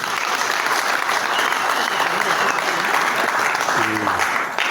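An audience at the installation of a political committee applauds a party cofounder with loud, sustained, even clapping from a large crowd, and a voice comes in briefly near the end.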